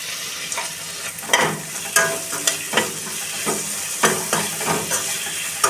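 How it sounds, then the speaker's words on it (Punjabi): Chopped tomato and vegetables fry in a hot tempering for a homestyle spaghetti noodle dish, a constant close sizzle broken by frequent sharp stirring scrapes and clacks of a spoon against the pan. "ਇੱਕ ਦੋ ਮਿੰਟ ਟਮਾਟਰ ਨੂੰ ਥੋੜਾ ਜਿਹਾ ਆਪਾਂ ਤੜਕੇ ਦੇ ਨਾਲ ਫਰਾਈ ਕਰ ਲਵਾਂਗੇ"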